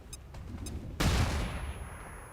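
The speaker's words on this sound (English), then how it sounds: "a little tempted to just try and flashbang in there actually" A flashbang grenade goes off in the XCOM 2 video game: a few faint clicks, then one sudden loud burst that decays into a lingering roar and ringing tone.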